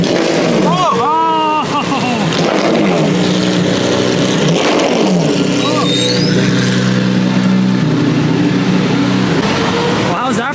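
Maserati MC12 Corsa driving on a public road amid post-event traffic, a loud engine drone with rising and falling pitch, with people talking and shouting over it throughout.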